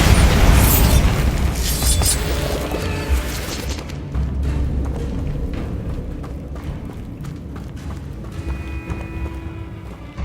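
Bombarda blasting spell in Hogwarts Legacy detonates with a loud, rumbling explosion at the start, followed by scattered debris clatter and crackling that gradually fades.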